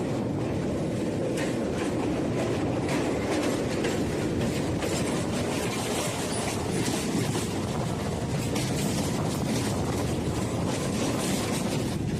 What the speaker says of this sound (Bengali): আসছে ডাউন কালিয়ানি সীমান্ত লোকাল।